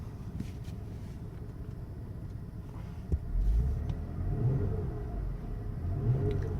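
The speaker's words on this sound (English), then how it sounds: "Car revs real nicely." Mercedes-Benz C280 4Matic with about 65,000 miles idling steadily, then revved at about three seconds into a deeper, louder engine rumble that swells twice. Close and clear, with no talking.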